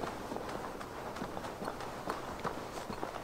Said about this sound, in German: Es hört sich an, als ob jemand mit einem Pferd hier unterwegs ist.